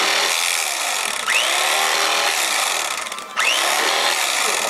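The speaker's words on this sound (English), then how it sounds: "Electric knife. Yeah, it's the best." Electric knife carving a turkey, a steady loud buzzing motor hum running throughout with two brief changes in pitch as the blade moves through the meat.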